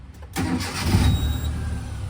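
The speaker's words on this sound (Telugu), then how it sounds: "సింగిల్ సెల్ఫ్లో అయితే వెహికల్ స్టార్ట్ అవుతుందండి" A Maruti Suzuki Omni with about 23,000 km on it starts on a single crank, a short whirr catching into a steady, close, rumbling idle of the small engine.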